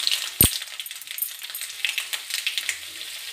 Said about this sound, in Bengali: এটাকে বন্ধু নাড়তে থাকতে হবে, নেড়ে দিয়ে ভালো করে নাড়তে থাকতে হবে।